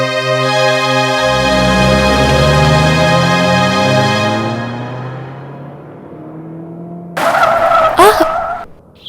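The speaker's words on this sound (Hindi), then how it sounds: "अचानक ब्रेक क्यों लगा दी?" In a scene from a Hindi film, a car brakes suddenly and its tires give a long, loud, drawn-out screech that slowly fades. A brief vocal cry follows near the end.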